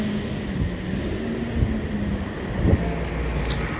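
A metro train runs through a Rennes station with a steady low rumble of wheels on rail and a few squealing flare-ups, heard fairly close and without talk.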